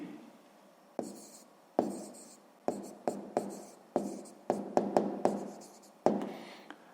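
Pen strokes on paper during a sixth-grade maths exercise: a series of short, sharp scratches and taps in irregular bursts, close and quiet, with no talk.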